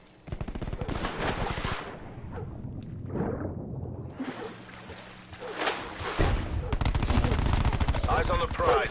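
Swordfish gun in Fortnite firing in rapid bursts, loud cracking gunfire repeating over several seconds with short pauses, mixed with game effects and a voice speaking.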